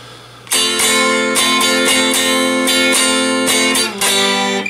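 A guitar strums the up-and-down pattern for a song, bright and loud with a steady, busy rhythm of close chord strokes and no talk.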